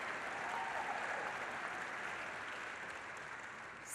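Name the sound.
audience cheering and applauding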